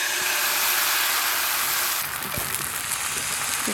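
A ladle of scallion-egg pancake batter poured into a lightly oiled pan bursts into a loud, dense sizzle that settles into a steady frying hiss, with a few faint utensil taps and no speech.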